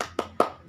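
Two sharp hand claps in quick succession, close and crisp, separated by about a fifth of a second, forming part of a children's rhythmic clapping chant in a primary school class.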